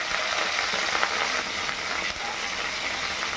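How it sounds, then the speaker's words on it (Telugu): Green chilli pieces fry in a pan, producing a dense, continuous crackling sizzle up close, with faint scraping ticks scattered through it. "అది కొంచెం ఫ్రై అవ్వాలి।"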